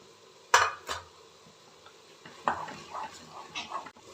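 Vegetables sautéed with garam masala and salt in a pan for veg daliya, heard as sharp metal spoon scrapes and clanks against the pan at irregular moments over a faint background sizzle.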